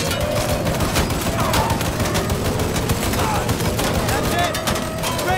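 Sustained heavy gunfire fills a Mafia 3 Remastered firefight, a dense, loud fusillade of overlapping automatic shots with no let-up, with voices mixed in beneath.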